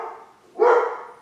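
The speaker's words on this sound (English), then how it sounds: "Sorry, that's my dog, Tommy." A dog indoors gives a single short, close bark, loud and abrupt against quiet surroundings, with a faint earlier yelp.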